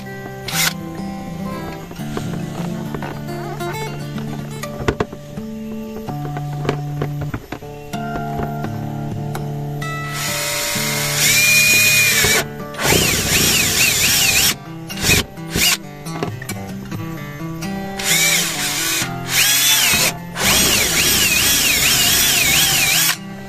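Power drill boring a hole for a fitting on a garden solar system setup, with bursts of loud whining drilling from about 10 seconds on, stopping and restarting several times after quieter handling and tool noises.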